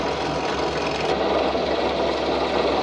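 A drill bores an axle hole through a handmade globe, giving a steady, close, continuous whirring buzz with a faint grinding edge and no talking.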